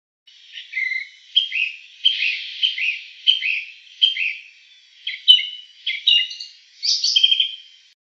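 Birds singing in a quiet setting: a string of short, bright chirps and whistled phrases repeating about every half second, clear and fairly close with silence between notes.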